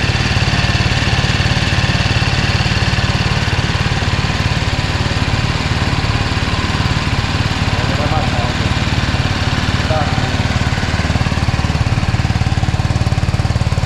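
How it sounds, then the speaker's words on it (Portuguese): A BMW G310 GS motorcycle engine runs steadily close by, its exhaust giving a continuous low, throbbing rumble with a faint mechanical rattle. "Vocês estão ouvindo mais é o escapamento, tá, gente? Mas é muito silencioso o motor."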